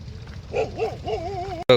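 A dog gives a short run of high, wavering whines and yips at close range over a low background murmur, ending with a sharp louder yelp.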